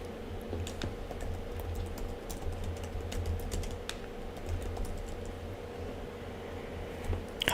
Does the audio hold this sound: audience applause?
no